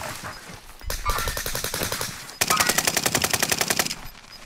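Rapid automatic gunfire from a video game shooter rattles out in two long, loud bursts of evenly spaced shots, the second burst faster and brighter, close and with no talk over it.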